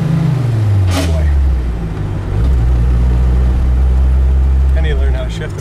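A loud 1972 Ford Pinto engine rumbles and revs, its pitch sliding down and climbing again as it runs, close and dominating with a rough, throaty tone.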